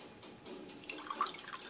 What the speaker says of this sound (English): So you just add water into it